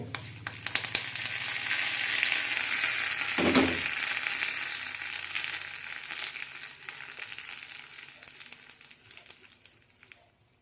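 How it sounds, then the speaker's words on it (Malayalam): Mustard seeds and curry leaves tempering in hot oil for a coriander chutney, giving a steady, close, bright sizzle and crackle throughout, with a brief louder burst partway through, then slowly easing off. "ഇനി ഇതിലേക്ക് താളിച്ചിടാം കടുകും കറിവേപ്പിലയിട്ടാണ് താളിക്കുന്നത്"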